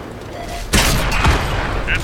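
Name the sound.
artillery fire in a tank video game, Pz.Kpfw. V/IV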